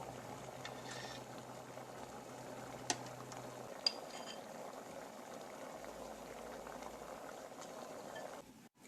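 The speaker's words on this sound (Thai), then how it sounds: "เสร็จแล้วก็ปิดฝาค่ะ นึ่งทิ้งไว้ประมาณ 5 นาทีนะคะ" Water boils steadily under a lidded steamer cooking a Thai layered dessert (khanom chan) made without arrowroot flour, a constant soft bubbling and steam hiss with a couple of faint metallic clinks and no talking.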